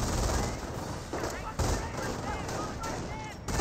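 Dense gunfire in the game Company of Heroes, with continuous rifle and machine-gun fire and battlefield crashes filling the whole stretch, while a commentator talks over it.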